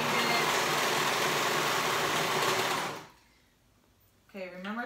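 A serger sewing machine stitching a sports top, a loud, fast continuous whirring stitch run for about three seconds that stops abruptly, followed by near-silence and then a voice talking.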